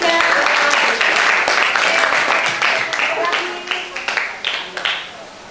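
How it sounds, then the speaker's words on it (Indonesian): A classroom of eighth-grade students applauds a group, brisk clapping that starts dense and thins into scattered, separate claps toward the end, with faint voices mixed in. "Tepuk tangan untuk kelompok 3"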